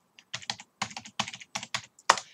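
Keys on a computer keyboard are typed in short irregular bursts, about a dozen distinct clicky strokes close to the listener, ending with a firmer press like hitting enter, with no talking.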